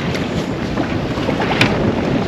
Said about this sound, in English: I'm sure the wind noise is a little crazy out here